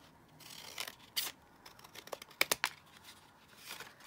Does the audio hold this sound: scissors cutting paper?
yes